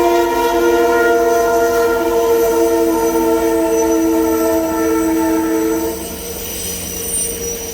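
A Canadian Pacific track evaluation train rolls past close by, a loud steady mechanical roar with strong sustained tonal lines and rail noise that eases slightly toward the end.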